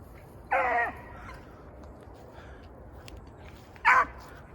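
Two short baying calls from a beagle hound ring out over a steady outdoor hiss, the first a drawn-out bay and the second a brief, sharper one.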